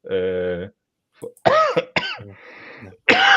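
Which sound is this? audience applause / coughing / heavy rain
coughing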